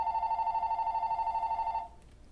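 A telephone rings during an oral history interview, giving one steady warbling electronic tone nearby that stops abruptly after almost two seconds, with no talk over it.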